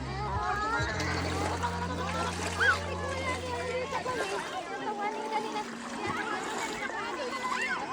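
Swimmers splash in a river, with water sloshing and splattering continuously beneath nearby talk and children's voices.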